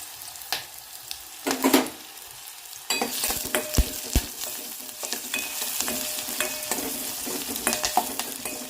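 Curry leaves fry in hot oil with onions in a pan, a soft crackle that suddenly swells into a busier, louder sizzle with frequent pops and stirring scrapes, close by and without speech.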